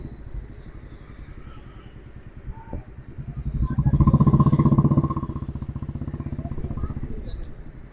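Motorbike engine pulling in to park on a busy shopping street in Jayanagar 4th Block, Bangalore, a steady low putter that swells louder for a moment as it comes close, then settles back to an idling chug.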